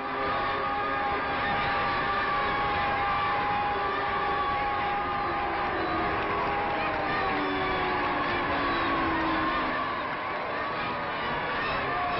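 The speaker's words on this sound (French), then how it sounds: "Les acclamations couvrent les salves des canons, couvrent les hurlements des sirènes" Dense crowd cheering and acclamations fill the scene continuously at a presidential visit by President Auriol in Algeria, with distant sirens and the roar of a large gathering heard throughout at a steady loud level.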